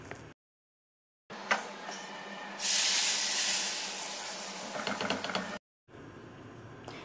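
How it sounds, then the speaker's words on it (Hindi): Hot Rajasthani tadka spiced oil poured into pakoda kadhi bursts into a loud, close sizzle that swells suddenly and then settles into a steady crackling hiss for a few seconds before cutting off. "तो ये तड़का हमारा तैयार है, अब हम कढ़ी में इसको डाल देंगे।"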